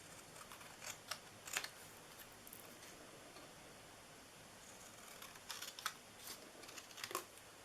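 Scissors snip out a paper label in quick, faint clusters of crisp cuts separated by quiet pauses, close by and without talk.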